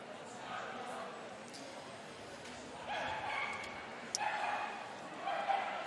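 At an international medium-team agility competition, an Australian Kelpie gives a few short yips and barks amid crowd noise and dog-walk thumps, partly under commentary.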